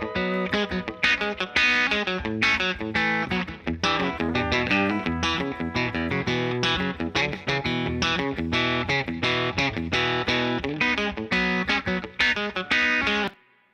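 Heavy rhythm electric guitar tracks from a country pop mix, soloed with spring reverb: dense, distorted chugging chords in a steady driving rhythm, loud and continuous, ending abruptly.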